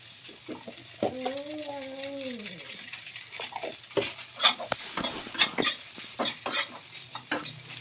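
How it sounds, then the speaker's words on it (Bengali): Boiled pasta fries in a pan with a pinch of salt and turmeric. A steady sizzle runs under repeated clinks and scrapes of a spoon stirring, with a brief tonal whine near the start. "পাস্তা ভাজা ভাজা হয়ে আসছে"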